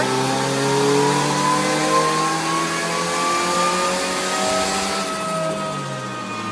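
Twin-turbo Honda D16 engine in a Civic revving hard on a dyno, a loud steady mechanical roar with rising and falling harmonic whine through the whole run, no voices.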